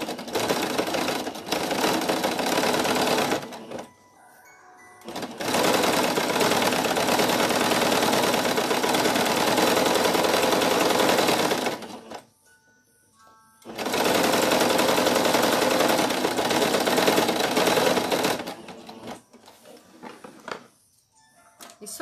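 A sewing machine stitches fabric panels for a balloon project in three long, loud, close bursts of steady whirring, separated by brief quiet pauses with light handling noises.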